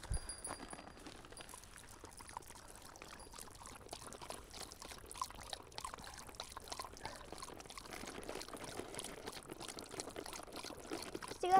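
Water poured out for a wild piglet to drink at an outdoor mountain hut, a steady trickling pour running for several seconds, fairly close and fairly quiet, with no talking over it.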